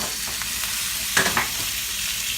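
Meat sizzles steadily in a hot pan just after being turned, a dense, even frying hiss with a couple of brief louder spatters in the middle, close and alone without speech.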